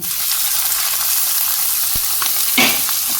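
Soya chunks, boiled in salted water and cut small, sizzle and fry in a pan with lightly fried capsicum, a close steady hiss with a brief stirring scrape near the end.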